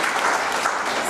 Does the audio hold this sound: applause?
yes